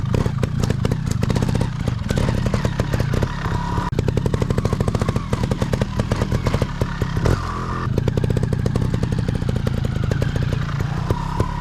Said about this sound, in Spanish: Vamos a ver las diferencias entre hacer un giro cogiendo y dejando el embrague a trompicones o hacerlo lineal.